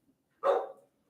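A dog gives a single bark outdoors, one short moderately loud bark standing alone in quiet.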